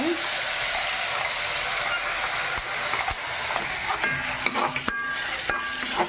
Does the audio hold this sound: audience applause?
no